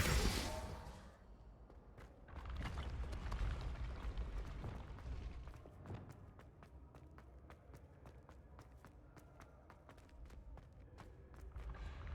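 Bombarda explosion spells going off in Hogwarts Legacy combat: a loud blast opens, followed by heavy rumbling booms and a string of sharp, crackling hits over a steady game soundscape.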